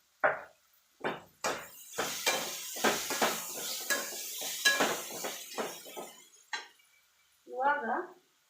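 Ground garlic paste goes into a pan and is stirred, with a series of close metal spoon scrapes and clinks against the pan over a soft sizzle, ending in a brief pause and a final burst of scraping.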